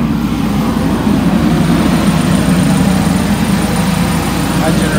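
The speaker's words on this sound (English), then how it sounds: "We have the engine being heated up." A bus engine warming up at idle, a steady low rumble that holds evenly and fairly loud throughout, with no break or change in pace.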